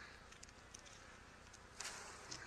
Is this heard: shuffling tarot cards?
no